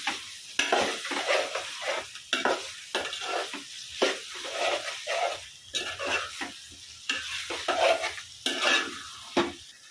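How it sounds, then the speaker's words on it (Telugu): Chicken curry is stirred in a pan, the spoon scraping and clinking against the metal in repeated uneven strokes over a constant low sizzle, close by with no talking. "చక్కగా మిక్స్ చేసుకోండి."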